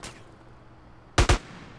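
Two sharp, loud gunshots fired in rapid succession in Grand Theft Auto: San Andreas, standing out against a quiet game background with a faint burst at the very start.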